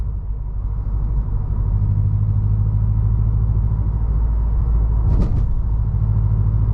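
A 2020 Subaru WRX STI Limited pulls in fourth gear on the road, heard from inside as a steady, loud low engine and road rumble, with a brief sharp click near the end.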